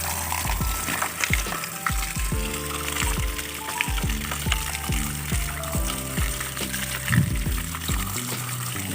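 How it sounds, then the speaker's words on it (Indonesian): Water runs steadily from a tap onto plastic toys being cleaned, a continuous splashing rush with small knocks and clatters throughout. "sepertinya di sini sudah ada keran teman-teman, keran air"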